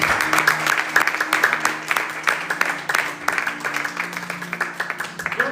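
A church congregation applauding, a dense patter of many hands clapping in a loose rhythm with accented beats, filling the room as voices murmur underneath.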